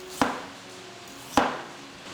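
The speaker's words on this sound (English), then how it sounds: "Next, slice up some ginger." Two sharp knife chops slice ginger on a cutting board about a second apart, each a crisp thud followed by quiet.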